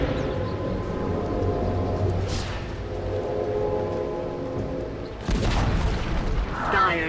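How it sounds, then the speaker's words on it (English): Tower destroyed in Dota 2: a deep booming collapse with rumbling debris and layered game effects, then a sharp, loud burst near the end. "Dire's middle tower has fallen."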